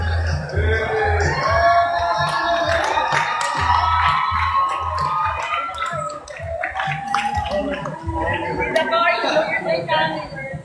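Fans at a Star Magic live homecoming event for the Big Four cheer and scream, many voices shrieking together in a loud, continuous roar for the whole stretch.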